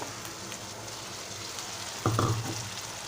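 A pan of fried onion and chili hisses softly in oil, then tomatoes drop in with a sudden louder splash and burst of sizzling that carries on to the end.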